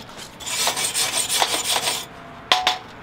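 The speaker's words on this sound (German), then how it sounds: "hier geht die Schlacke gerade ab" Welding slag is chipped and scraped off a stick-electrode weld on a metal welding table, in a quick series of harsh rasping strokes, then a pause and two final scrapes, close and clear.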